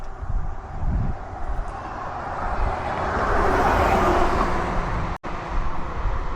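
Cars passing along a city street in Dallas, a continuous close roar of traffic that swells as vehicles go by, with a brief dropout near the end and no voices.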